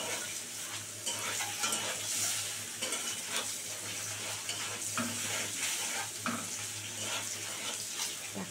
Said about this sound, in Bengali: এই দেখো অল্প একটু হলুদ দিয়ে দিই, সুন্দর করে একটু ভেজে নিই